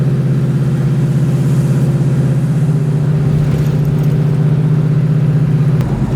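A 1979 Oldsmobile Cutlass Supreme engine runs with a loud, steady low drone, its pitch climbing slightly before a brief clatter at the end, with no voices present.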